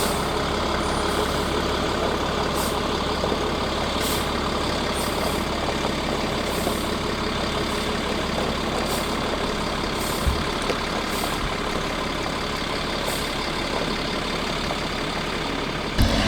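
A bus engine idles on soft rural ground in the Missouri Ozarks while the bus turns around, giving a steady, close, low rumble with faint periodic clicks and no talk.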